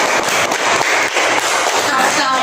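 An elementary school class in Indonesia bursts into dense, steady applause. Many hands clap close together and the sound stays loud and unbroken for a couple of seconds, with no speech over it.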